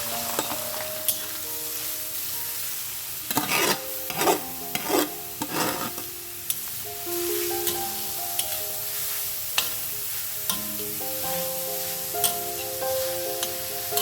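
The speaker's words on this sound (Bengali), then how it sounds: "গাজরটা যতক্ষণ না পর্যন্ত নরম হচ্ছে ততক্ষণ আমরা একটুখানি ভেজে নেব।" Chopped carrots fry in ghee for Indian carrot halwa, a steady close sizzle broken by bursts of stirring and scraping in the pan, with faint background music.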